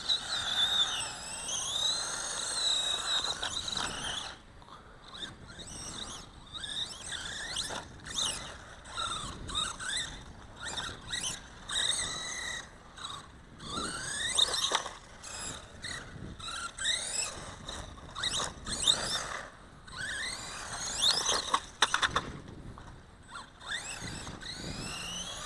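A Dromida MT4.18 brushless RC monster truck motor screams in repeated rising and falling whines, fairly faint and distant, mixed with scuffs and rattles as the truck runs.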